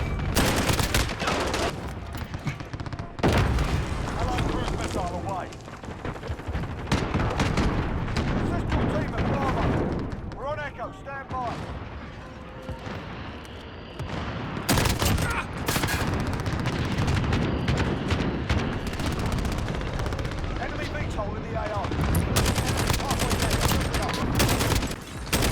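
Rapid bursts of SCAR-17 rifle fire in Modern Warfare crack repeatedly over loud in-game explosions and ambient battle noise, with a few brief lulls between volleys.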